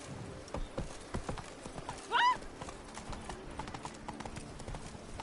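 Hooves of the horse in The Witcher 3 clip-clop in a quick galloping rhythm, joined by a short whinny partway through, under faint game ambience.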